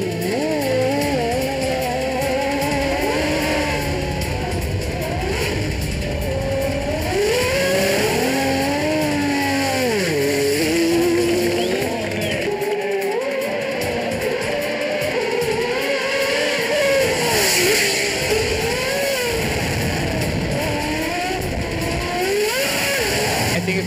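A Superleague Formula race car drives a street circuit, its engine loud and near, revving up and down through gear changes with rising and falling pitch sweeps, sustained for the whole stretch.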